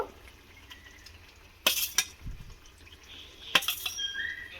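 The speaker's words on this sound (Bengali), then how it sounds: "এই সময় আমি যে ডিমের মটরশুঁটির অমলেটটা ভেজে রেখেছিলাম, এইগুলোকেও দিয়ে দেব" Fried egg and pea omelette pieces go into a pan of gravy with a couple of sharp metallic clinks of a spoon against the pan and a soft thud, over a quiet kitchen background.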